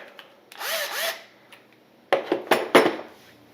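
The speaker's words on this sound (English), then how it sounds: "Now we have a Milwaukee 12 volt cordless drill combo." A Milwaukee 12 volt cordless drill gives a short, fairly loud burst of motor whine that spins up and winds down, followed by several sharp clattering knocks as the tool is handled.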